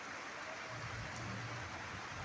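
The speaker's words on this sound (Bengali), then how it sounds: "প্রচণ্ড বৃষ্টি শুরু হয়ে গেছে আস্তে আস্তে পড়ছিল এখন আরও জোরে জোরে পড়ছে" Steady, dense rain hisses continuously, a constant wash of falling water with no pauses.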